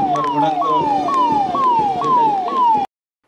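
An ambulance siren wails on a road in a steady, repeating rising-and-falling sweep, about six loud close cycles, then cuts off abruptly into silence.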